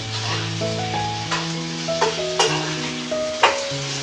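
Food stirred and frying in a pan gives a sizzling bed under scraping strokes of a utensil, with several sharper clinks spaced through it. Steady tonal hums also run in the background.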